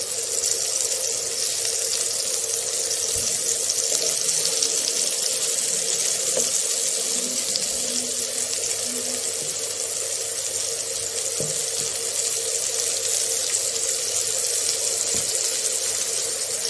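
Slices of bitter gourd fry in hot oil in a pan, making a steady close sizzling hiss with occasional faint pops throughout, and no one speaks.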